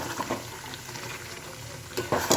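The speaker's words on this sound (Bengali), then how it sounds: "এই যে মটন কষা হচ্ছে, এখানে কষা হচ্ছে মটনটা" Mutton being stir-fried as kasha in a pan gives a low, steady sizzle, with a few sharp scrapes and clinks of a spatula stirring near the end.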